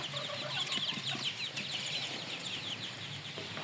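Chickens cluck steadily inside a chicken house, a dense overlapping chorus of hens and rooster calls with occasional wing flaps, close and continuous.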